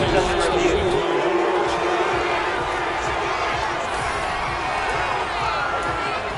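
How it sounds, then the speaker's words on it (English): A football stadium crowd in a Giants versus Bills game shouts and cheers in a continuous loud roar, steady throughout with scattered louder whoops rising above the wash of voices. "Plenty of shouts from these crowds."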